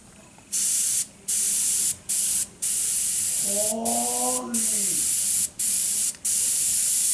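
An airbrush sprays paint in short, repeated hissing bursts, close and loud, with a brief rise in tone midway, and no talk in between.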